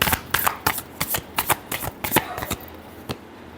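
Tarot cards riffled and shuffled by hand, a string of crisp, rhythmic snaps and flutters repeating close to the mic, with quieter gaps between bursts.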